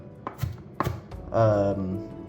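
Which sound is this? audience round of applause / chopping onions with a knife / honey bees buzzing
chopping onions with a knife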